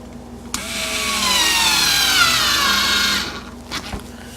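A power driver sinks Phillips screws into a Star Wars arcade cabinet under repair, giving one sustained whirring run of about three seconds that winds down, followed by a couple of short clicks, close and clear.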